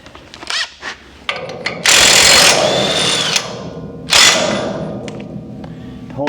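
Power drill or impact tool spinning an upside-down lug nut onto a GT3 road race chassis hub, several loud bursts of whirring after a few clicks, close up.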